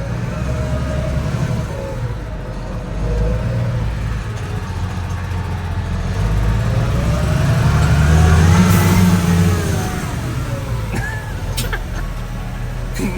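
A Lovol P2404 tractor's mid-pitched diesel engine runs steadily while reversing, rising slightly in the middle with faint mechanical whine, moderately loud and close with no talk over it.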